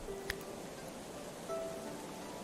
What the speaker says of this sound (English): is it raining?